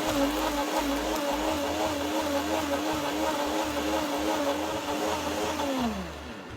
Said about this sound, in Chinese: 开启搅拌器，将食材搅成糊状